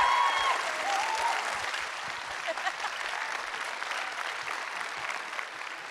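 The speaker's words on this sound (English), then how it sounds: "Give him a round of applause, by the way." A Comic-Con Liverpool audience at a Q&A giving a round of applause, dense sustained clapping from a large crowd that fades slowly over several seconds.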